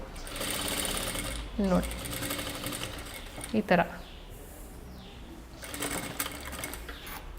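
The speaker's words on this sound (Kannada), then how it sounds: "ಈ ಥರ ಸ್ಟಿಚ್ ಮಾಡಿಕೊಂಡ್ರೆ" Sewing machine stitching kurta fabric with piping and lining, a close, continuous rapid mechanical whir with brief pauses and small clunks, running under a voice speaking nearby.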